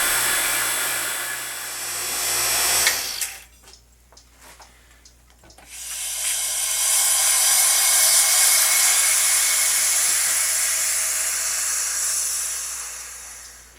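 A vacuum pump used in pen making, likely for an apple tree wood blank, hisses steadily and loudly, drops to a near-quiet gap with a few faint clicks, then resumes its broad, steady rush.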